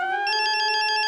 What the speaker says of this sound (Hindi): अंजलि का वीडियो कॉल